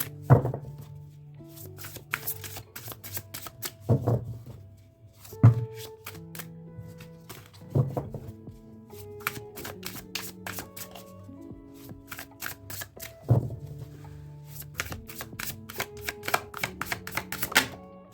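Tarot cards are shuffled close up, giving repeated soft riffling bursts and sharp taps as the deck is squared, in an irregular rhythm with calm music faint underneath.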